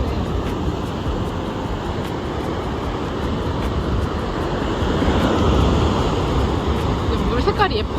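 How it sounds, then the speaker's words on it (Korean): Strong ocean waves break and wash continuously on a beach in Bali, a loud, steady roar of surf that stays close throughout with a slight swell toward the end. "파도가 굉장히 세네."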